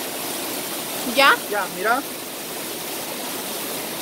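Spring water flowing out from between stones in Guatemala makes a steady, close rushing wash that runs the whole time, while a few brief spoken words come over it midway.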